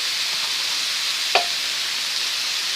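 Ground beef sautéing in a pan with broken-up spinach leaves, a steady soft sizzle throughout with one brief scrape or clink of a utensil partway through, no voices.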